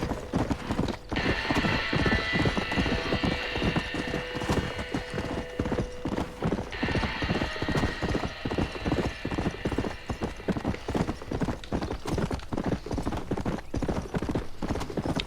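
Horses gallop in the video game Red Dead Redemption, a dense, continuous clip-clop of hooves with occasional whinnies rising over it, steady and close throughout.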